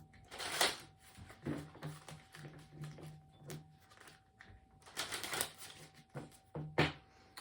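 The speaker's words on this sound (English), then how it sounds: "Let me shuffle these." Cards are shuffled by hand in several crisp riffling bursts, with soft taps and pauses between them, close to the microphone.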